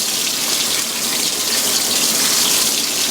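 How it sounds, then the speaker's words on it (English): Hot water rushes steadily into a Fisher & Paykel washing machine as it fills, a loud, even hiss of pouring water with no voices over it. "Seem to be putting in a lot of hot water"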